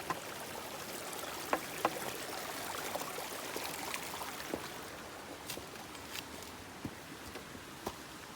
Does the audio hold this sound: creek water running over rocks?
yes